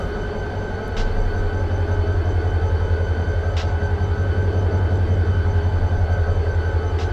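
A long freight train of about 30 cars in the simulator Run8 V2 rumbles by steadily with a deep continuous roar and rattling wheels, loud and close, with a couple of faint metallic clanks.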